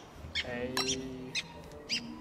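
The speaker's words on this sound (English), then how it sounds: "a bird in the trap." Cartoonish bird chirps and tweets from the video game Don't Starve as a bird is caught in a trap, a few short high calls over a low musical drone.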